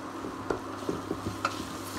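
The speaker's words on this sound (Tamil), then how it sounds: "ஆனியன்ஸ், நல்லா கோல்டன் பிரவுன் ஆகிற வரைக்கும் நல்லா ஃப்ரை பண்ணிக்கோங்க" Onions frying in a pan for a stovetop vegetable lasagna, a soft, steady sizzle with light scattered pops and ticks of stirring, close and fairly quiet with no voices.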